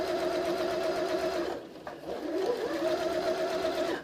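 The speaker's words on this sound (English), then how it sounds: "you just get on a roll and you just sew right on through" A sewing machine stitches a Christmas stocking with a steady, close, mechanical whirr that stops briefly midway and then runs on again without any talking.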